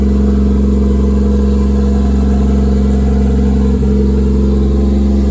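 A turbocharged Toyota 2JZ-GE engine idles at 1300 rpm with a low, even hum and a constant rumble, close by and uninterrupted, with one brief click partway through.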